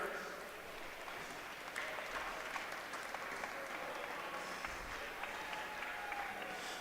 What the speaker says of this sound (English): give a round of applause as he finishes around this last turn